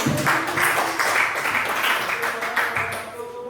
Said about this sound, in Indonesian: berikan tepuk tangan untuk nomor 1 ya